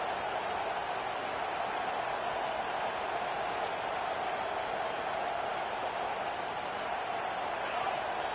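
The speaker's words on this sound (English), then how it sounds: "And with this place rocking, the crowd forces a false start." Steady, roaring crowd noise fills a college football stadium as fans get loud enough to force a false start; the dense wash of cheering holds at an even level throughout with no break.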